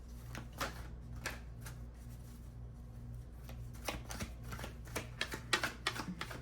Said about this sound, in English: let's shuffle the rest of our cards.